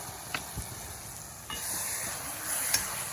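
Quiet sizzling of masala powder frying in a pan for mushroom curry, a soft continuous hiss with a few light clinks and stirring scrapes, close up with no voices.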